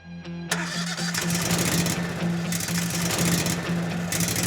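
A hammer mill's heavy engine catches and roars to life after a short lead-in, then runs loud and rough with a steady rumbling hum and clattering noise.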